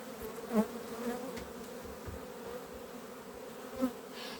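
Swarm of honey bees droning steadily at a hive in spring after prolonged rains, a dense continuous buzz with a couple of louder individual bees passing close to the microphone.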